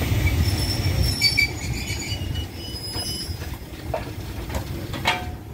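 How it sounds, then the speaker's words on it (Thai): GEA 4539 locomotive hauling ordinary train 254 at Ban Pong station, with a loud, steady rumble of railcars as the train stops, wheel squeals and high metallic screeches layered over it, and no voices. "ขบวนรถจอดเทียบอยู่ในชานชาลารางที่1ด้านหน้าสถานี"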